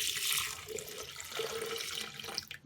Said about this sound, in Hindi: डालेंगे 1 गिलास दूध।